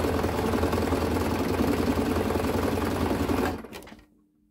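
A sewing machine stitches children's bedding in a loud, steady mechanical whir that runs unbroken for several seconds, then winds down and stops.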